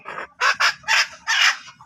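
Egg-laying hens being sold cluck in a series of short, sharp bursts, close by and fairly loud, with brief gaps between calls.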